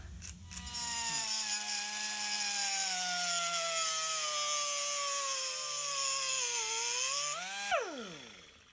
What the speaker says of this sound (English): so chopped down, filed off, quick deburr, blowout